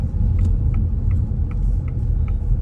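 Car engine during a driving test route in Raheny, in second gear off the clutch, a steady low rumble with faint regular ticking, close and continuous with no voices.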